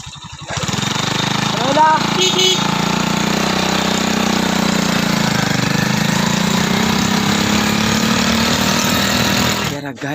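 A motorcycle engine starts and then runs at a steady loud idle close by for several seconds, with a brief spoken word early on over the rumble.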